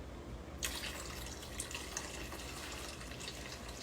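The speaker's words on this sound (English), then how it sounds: "I've got 2 more cans of the Swanson low sodium chicken stock. So I'm going to pour that in." Canned Swanson low sodium chicken stock poured into a cooking pot: a faint, steady liquid splashing stream that starts after a short pause and runs on evenly, with no talking.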